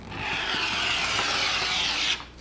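Quilt fabric being trimmed with a rotary cutter, a steady close scraping rub lasting a couple of seconds before stopping abruptly.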